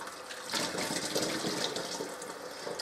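Homemade turkey stock poured through a small mesh strainer, a continuous close splashing pour of liquid that starts abruptly and runs steadily to the end.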